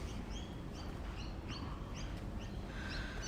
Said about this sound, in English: Listen to those gorgeous magpies.